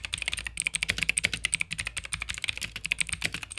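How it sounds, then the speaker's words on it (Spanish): Fast, crisp clicking keystrokes on a mechanical keyboard with blue switches, close and continuous in an uneven typing rhythm. "personalmente siempre amé el sonido de este teclado"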